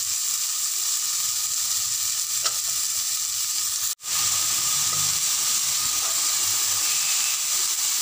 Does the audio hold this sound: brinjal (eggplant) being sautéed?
yes